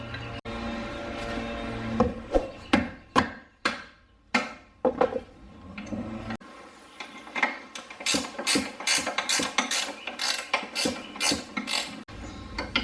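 A ratchet loosening a 14 mm bolt on an R32 Skyline GTR front sway bar: a few separate loud clicking strokes, then a quick, close run of ratcheting clicks.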